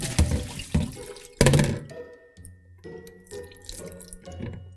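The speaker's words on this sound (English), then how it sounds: "I'm gonna do the dip method once more and get any residue left of the shampoo" Water sloshes and splashes in a sink as a human hair wig is dipped and rinsed, in uneven bursts with quieter trickling gaps between the dips.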